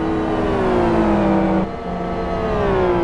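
GT1 race cars accelerate hard through a chicane, loud engines revving and rising in pitch, with a brief lift and dip mid-way before the roar climbs again.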